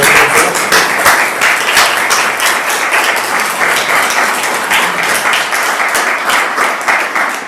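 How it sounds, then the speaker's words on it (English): Brisk applause from a members' meeting audience greeting James Russell, many hands clapping loudly and evenly from nearby for several seconds, with no voices over it. "If we can give him a round of applause."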